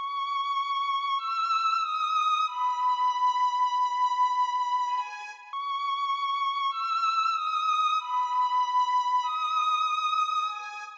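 A Y2K-style beat with an added top-line violin melody plays bright sustained synthetic notes in a repeating phrase over chords, steady and loud with no voices.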